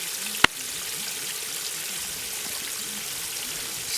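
Water pours steadily out of a Rubbermaid stock tank onto the ground as a constant close splashing stream, broken early by one sharp tap.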